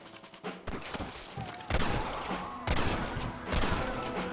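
Gunfire in the video game Red Dead Redemption: a series of loud, sharp shots and thumping blasts burst out in clusters over a busy background of game sound.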